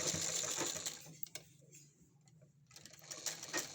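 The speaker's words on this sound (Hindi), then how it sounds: "ऐसे पूरे में सिलाई लगा दो इस किनारे किनारे पे बिल्कुल" A sewing machine runs stitches along the edge of a fabric piece, a rapid mechanical clatter that slows and pauses midway, then picks up again, close and fairly quiet.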